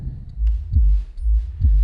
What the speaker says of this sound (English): The heartbeat is just a filtered beat.